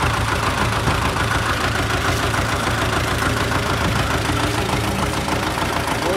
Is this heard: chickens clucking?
no